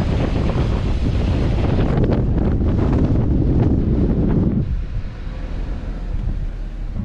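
A fishing boat pounds over choppy water off Democrat Point, New York, heavy wind roaring across the microphone in a loud, dense rush that suddenly drops to a quieter, lower rumble near the end; no one speaks.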